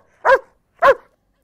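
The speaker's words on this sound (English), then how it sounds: "That was a dog." A dog barks twice, loud and close, with a short pause between the two barks and silence around them.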